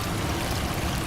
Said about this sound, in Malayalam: കണ്ടോ കാടിനുള്ളൊരു അരുവി